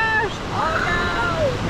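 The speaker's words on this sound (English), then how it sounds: "Some big waves." Big ocean surf breaking at an Indian beach, a broad wash of rushing water and wind noise under faint voices talking over it.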